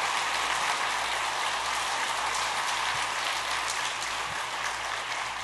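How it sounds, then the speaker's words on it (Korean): Church congregation applauding a pastor after a sermon at a Sunday afternoon service, a steady, dense wash of clapping heard at a distance, even and continuous throughout with no voices. "우리에게 귀한 말씀을 전해주신 김진산 목사님께 박수를 드리도록 하겠습니다."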